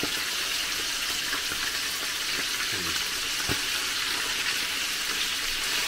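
Steady, hissing sizzle of mackerel frying in hot oil, constant and fairly close, with a few faint clinks underneath.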